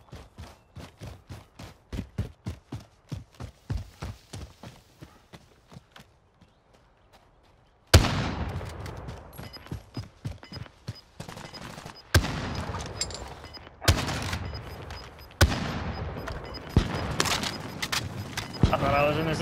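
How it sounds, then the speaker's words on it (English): Gunfire in the video game Warzone: a fast run of sharp repeated shots that fades out, followed by louder, denser bursts of automatic fire close by. "Someone's shooting on our right."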